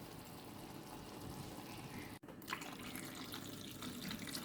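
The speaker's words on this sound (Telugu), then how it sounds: "నిండా నీళ్లు పోసేసుకోవాలి." Water pours steadily into a pot for rasam, made with tamarind extract and rasam powder. The flow runs as a continuous, close, broadband rush with a brief break partway through and no talking.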